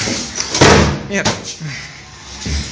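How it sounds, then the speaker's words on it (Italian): A door slams violently in a room during a paranormal horror scene, a loud broadband bang near the start followed by further knocks and rattles, with voices talking around it. "una porta incomincia a sbattere in modo violento"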